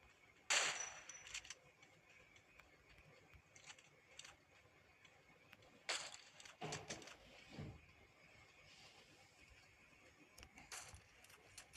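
Gunfire in the mobile game Free Fire comes in scattered bursts, a loud shot near the start and clusters of rapid shots later, faint and separated by quiet stretches.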